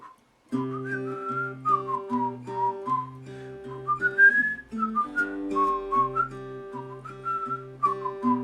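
Someone whistles a bouncy melody over a steady backing accompaniment, the notes clear and close, with no talking.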